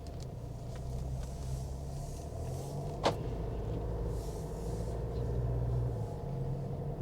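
A diesel car on a 68 plate pulling away smoothly after being put into drive, a steady low engine rumble inside the cabin with a single brief click partway through.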